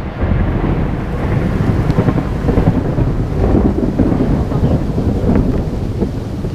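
Heavy thunder rolls and rumbles continuously through a rainstorm, loud and close, with rain and wind noise beneath it and no talking.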